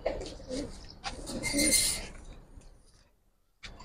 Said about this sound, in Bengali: এটা একটা সাপচিলা কবুতর ভাই